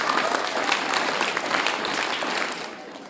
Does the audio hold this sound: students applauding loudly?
yes